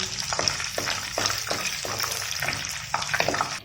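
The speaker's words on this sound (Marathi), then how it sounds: "आता त्यामध्ये आपल्याला आपले काजू तेलामध्ये छान तळून घ्यायचे आहेत" Cashews frying in hot oil in a pan for a veg dum biryani, a steady close sizzle with soft rhythmic stirring scrapes running throughout.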